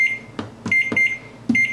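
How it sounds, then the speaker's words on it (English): An oven timer chirps as it is set for baking bread: four short, sharp electronic beeps at uneven intervals, each a clean high tone with a soft press click, quiet and close in a still kitchen. "So, set the timer for 25 minutes"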